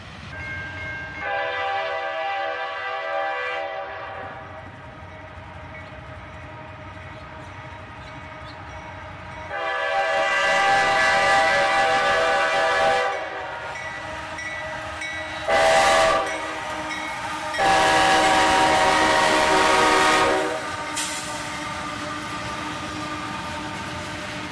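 A southbound freight train led by two AC44CW diesel locomotives rumbles past with loud, sustained horn blasts that swell and cut off repeatedly, wheels and engine noise rising and falling underneath.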